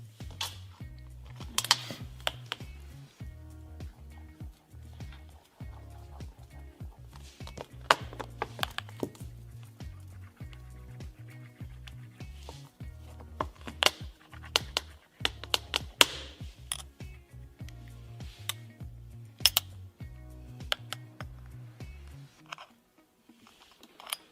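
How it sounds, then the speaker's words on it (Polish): Metal keys scrape and tap across an iPhone 8 screen in a scratch test, making a long run of irregular clicks, rattles and gritty rubbing close up, with pauses between bursts. "Sprawdźmy, czy iPhone się porysuje."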